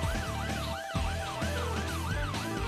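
Police car siren from the Roblox game Brookhaven, wailing up and down in a steady repeating cycle, loud and close over a low engine-like hum, with no talking.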